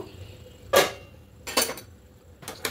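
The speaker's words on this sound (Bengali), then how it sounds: "এবার ঢাকাটা খুলে নেব।" Metal lid lifted off a pan of mini bread pizzas cooking on low flame, giving three short bright clatters and clinks, spaced about a second apart, close and fairly loud.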